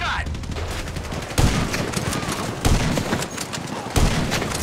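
Sniper gunfire in the GTA 5 video game: three sharp, loud shots spaced about a second apart ring out over a busy, noisy in-game background.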